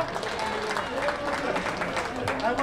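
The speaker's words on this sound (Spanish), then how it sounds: "un aplauso para Edgar" A crowd applauds at a public ceremony handing out life insurance to mothers in the GAM, a steady wash of clapping mixed with voices and crowd chatter throughout.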